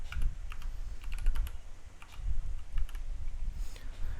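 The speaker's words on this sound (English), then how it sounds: "you can type in the word that you would like to find" Steady close typing on a computer keyboard while entering a search word in Google Docs' find and replace, a quick run of soft clicking keystrokes with brief pauses and no voices.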